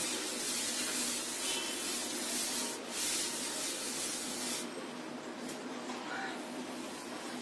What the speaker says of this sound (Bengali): এখন একটা টিস্যু দিয়ে এইভাবে মুছিয়ে দিচ্ছি।